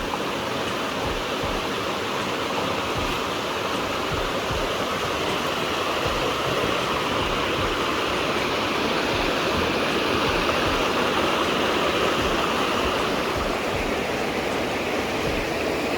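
A flood-swollen river on a farm rushes steadily and strongly, a dense, continuous roar of churning water that stays loud and unbroken from start to finish, without any voices.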